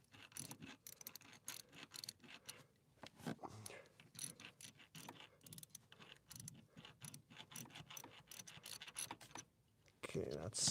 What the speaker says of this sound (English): So I'm just fastening the one at the very back on the bottom of the fuel rail.